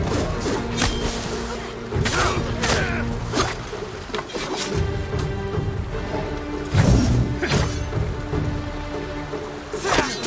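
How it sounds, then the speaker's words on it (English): Firecrackers burst during a Ghost of Tsushima fight, a scattered series of sharp cracks and pops with thuds and clashing over a low game soundtrack, some bursts louder than others. "The firecrackers were fun."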